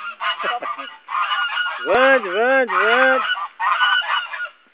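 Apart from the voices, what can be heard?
geese honking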